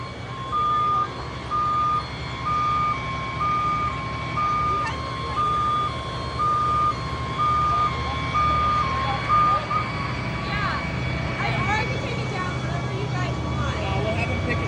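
A delivery truck's reversing alarm beeps repeatedly in a steady, evenly spaced series, fairly loud and close, then stops; engine rumble and people talking nearby continue underneath.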